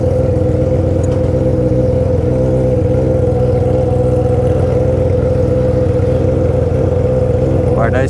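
A Porsche 911 engine revs hard, giving a loud, sustained, throbbing drone that stays steady and close throughout.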